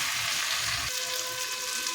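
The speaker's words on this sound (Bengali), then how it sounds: "এবার ভেজে রাখা আলু পটলগুলো দিয়ে একটু ভালো করে মশলার সাথে" Potatoes and pointed gourd sizzle in hot oil with a spice paste, a steady, close crackling fry that runs unbroken and fills the whole moment without any talk.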